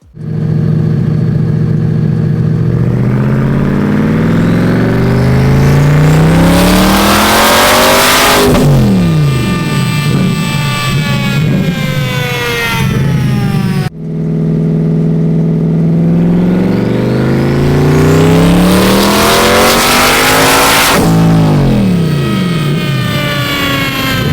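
A twin-turbo BD Elite 427 C8 Corvette making 1000 wheel horsepower on low boost, running on a dyno: two loud full-throttle pulls, each rising steadily in pitch before dropping off, close and overwhelming, with no voices.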